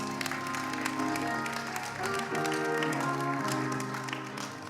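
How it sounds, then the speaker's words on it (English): A church congregation claps in praise at a Baptist service, a sustained burst of applause filling the room at moderate volume for several seconds. "let's give God another hand clap of praise"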